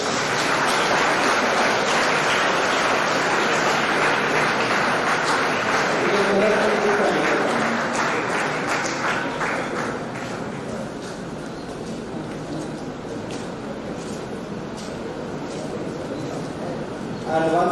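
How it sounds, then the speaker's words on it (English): Sustained audience applause for Team Bandit at a youth entrepreneurship event on stage, a dense, steady wash of clapping for about ten seconds that eases slightly and carries on at a lower level to the end. "They deserve a big round of applause."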